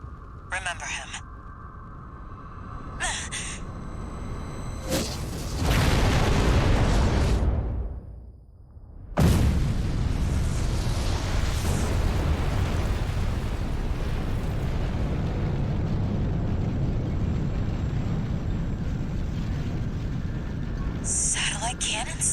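Satellite cannon blasts in the video game Armored Core VI land as massive roaring explosions, with a heavy burst that cuts out, then a second eruption and a long rumbling wash. Short electronic tones sound at the start and at the end.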